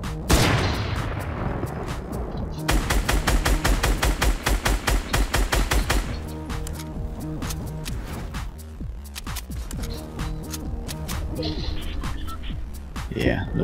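Gunfire in a Fortnite Battle Royale squads match, with rapid bursts of shots fired close by, a dense volley in the middle followed by scattered shots and game effects.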